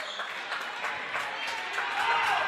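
A basketball crowd at a Wahpeton Huskies vs Lisbon game cheers and applauds steadily, growing slightly louder, with a commentator's voice over it.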